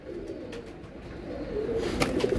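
Pigeons coo softly in a low, rolling murmur that continues throughout, with a few brief clicks and flutters near the end.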